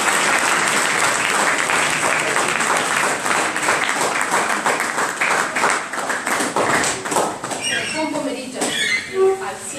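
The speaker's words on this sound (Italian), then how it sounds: "Mi facciamo un applauso." An audience of parents, teachers and children at the inauguration of a youth town council in Roccagloriosa claps loudly and densely, then the applause breaks up into scattered claps as high voices start to come through.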